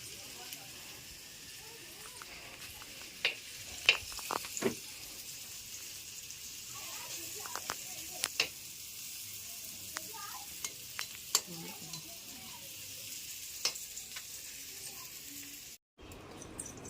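A vegetable curry cooks in a pan, with a steady soft sizzle running throughout and scattered scraping clicks of stirring, fairly quiet and close, ending with a brief dropout.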